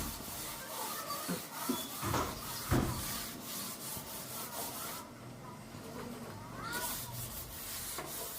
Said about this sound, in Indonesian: Ini sebelum dibuat motif mesti diamplas dulu.